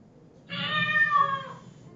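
A single cat meow played back as a sound clip, loud and drawn out for about a second over faint low background hum, with no talking.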